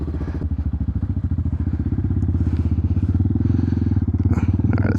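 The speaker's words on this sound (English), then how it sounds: "That was a totally cold start, so every now and then on the totally cold starts, I just gotta turn up the RPM a tiny bit" A Hawk 250 dual sport motorcycle idling just after a cold start, a loud close single-cylinder engine with a fast, even thumping pulse that steadies and rises slightly.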